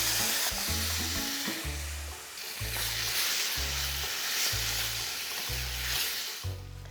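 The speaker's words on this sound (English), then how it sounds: "And then I'm going to add my tomatoes." Tomatoes hit a hot frying pan for pork meatballs with linguine, giving a loud, steady close sizzle with rhythmic low thumps of stirring throughout, no voices.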